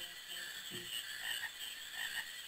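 A short, soft frog croak from Final Fantasy IX's marsh area rises briefly over steady game music and ambient tones, faint and heard only once.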